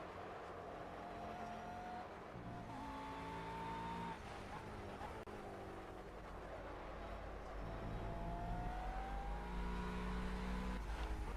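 Race car lapping the Bugatti circuit in the Project CARS racing game, its engine droning and shifting pitch through gear changes and braking, steady and loud throughout with no one speaking.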